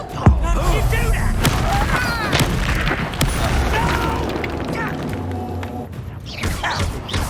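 Incendio fire spell cast in Hogwarts Legacy during a magical duel, a sharp burst followed by crackling, roaring blasts and impacts under dense game effects, with voices talking over it.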